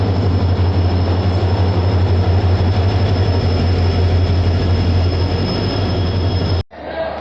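A moving passenger express train, the Puducherry–Dadar Central Chalukya Express, rumbles loudly and steadily, its deep drone and rattle carrying on unbroken before cutting off abruptly near the end.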